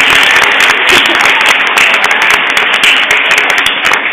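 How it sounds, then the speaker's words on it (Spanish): Steady applause from an audience at the grand final of a regional cultural olympiad, dense continuous clapping filling the room at full loudness with no pauses. "pido también un aplauso para Neoláser y Casablanca"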